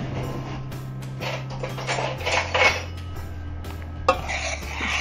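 Coconut milk and sugar being stirred together in a bowl, a utensil scraping and knocking softly against the sides in a short, irregular burst over a steady low background hum.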